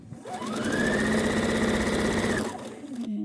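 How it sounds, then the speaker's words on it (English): A sewing machine stitching quilt pieces runs in one continuous burst of rapid, even whirring for about two seconds, then slows and stops, close and moderately loud with no talk. "I'm going to sew another one of these and put this one in."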